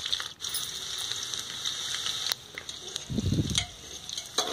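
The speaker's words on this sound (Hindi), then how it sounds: "देखिए अब इन सबको अच्छे से थोड़ा सा हम लाल होने तक का भूनेंगे।" Onion and whole spices crackle and sizzle in a pan for a goat head curry, a steady close fry with scraping stirs and a brief clink near the end.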